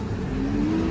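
A car pulls up at a village wedding gathering in Vithewadi, its engine humming close and steady for a brief moment with no talk.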